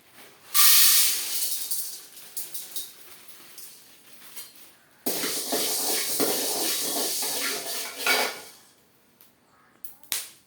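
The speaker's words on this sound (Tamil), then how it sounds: "அவ்வளோதாங்க, மிளகு வறுந்துச்சுங்க" Black pepper roasts in a hot pan, giving a loud sizzling hiss that flares briefly, fades, then returns as a sustained crackling sizzle for several seconds before dying away, with no talking.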